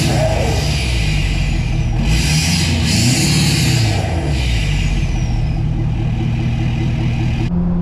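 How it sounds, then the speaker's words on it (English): A tuned 6.7 Powerstroke diesel pickup truck engine rumbles steadily, rising into a couple of revs midway before settling back to a deep idle. "I'll get a few revs."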